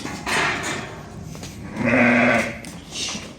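Purebred sheep bleating close by, with two or three loud wavering calls, the strongest in the middle, and quieter bleats before and after.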